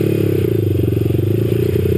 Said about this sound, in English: So I actually have it idling a little high on purpose